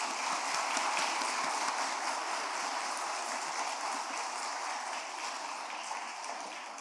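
A church congregation claps during a youth dedication service, a broad, sustained roll of applause that holds steady at moderate loudness and thins slightly toward the end.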